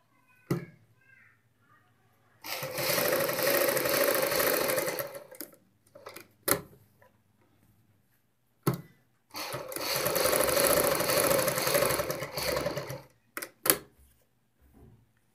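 A sewing machine stitches a leaf pattern on a salwar bottom in two bursts of steady whirring, each about three to four seconds long, separated by quiet pauses with brief clicks and handling taps.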